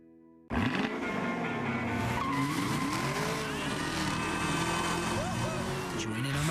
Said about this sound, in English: This is a fast car.